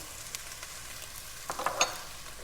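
Tomato paste sizzles softly in a pan of pasta sauce, a faint steady frying hiss with a brief burst of brighter crackling near the end.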